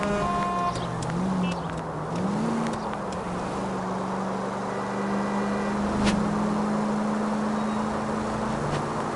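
A car drives in the video game L.A. Noire on PS5, its engine a continuous near drone whose pitch rises and settles as it accelerates and cruises, with no talk.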